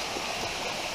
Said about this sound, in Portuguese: Tá bem o final da cachoeira.